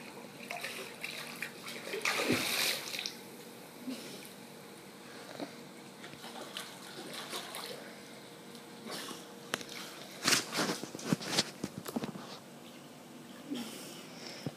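A child swims and splashes in pool water, with irregular sloshing and bursts of splashes, some sniffing and breathing close by.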